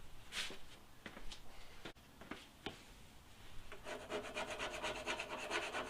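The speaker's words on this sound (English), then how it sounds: "let me finish pulling the cardboard off. Get a scraper." A scraper drags across a vehicle fender to strip stuck cardboard, making quiet scattered rasping strokes that turn into a faster, steady scratching toward the end. It is heard close up with no voices.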